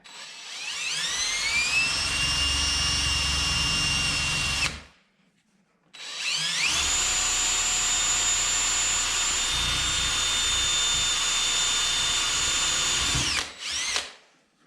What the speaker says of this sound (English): angle your drill bit so it actually angles down at a 45